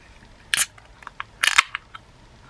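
A Harpoon beer is cracked open, giving two sharp hissing pops of the cap or tab releasing pressure, close and crisp, with small clicks between them and no talking.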